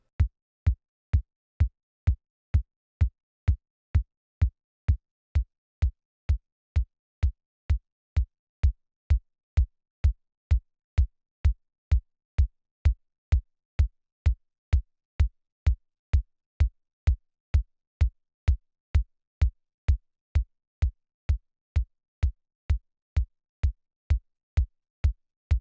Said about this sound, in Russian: Вот как звучит бочка без обработок на канале самой аудиодорожкой.